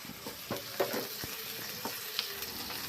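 Onions and green chillies fry in oil in a pan, a steady close sizzle with scattered pops and a few spoon stirs, no voices.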